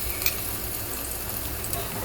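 Garlic sizzles in hot oil with mustard seeds, cumin, asafoetida and curry leaves during a Gujarati tempering for a green cowpea dish, a steady close crackling hiss with a few soft stirring knocks.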